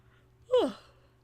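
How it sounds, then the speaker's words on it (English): A single long yawn from a woman, rising then falling in pitch over about half a second, close and fairly quiet against a faint steady hum. "That was a long yawn."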